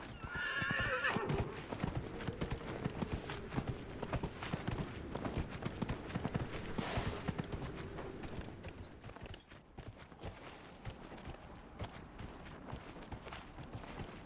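A video game horse gallops with rapid clip-clop hoofbeats and lets out a loud neigh near the start, the hooves drumming steadily throughout over game ambience.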